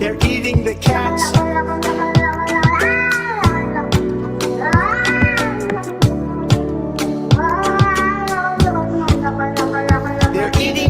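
A voice imitates a cat with a string of sung, sliding meows over a driving rhythmic music beat. The meows are loud, close and repeated in quick succession.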